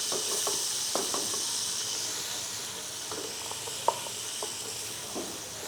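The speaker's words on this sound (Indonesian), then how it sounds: "Sekarang kita masukin bawang putih ya, kita tumis." Garlic sautéing in a little oil for Hainanese chicken, a continuous bright hiss of frying with scattered light clicks and taps of stirring, close and fairly loud.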